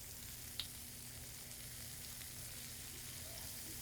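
Shrimp sear in a hot pan, a faint, even sizzle that runs throughout with a single small pop near the start.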